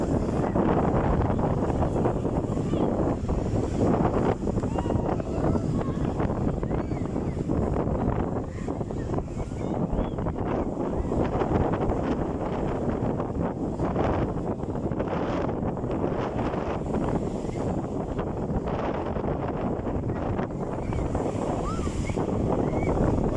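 Heavy surf crashes continuously while strong wind buffets the microphone on a beach at Caen, France, a loud, steady roar of stormy sea with no break.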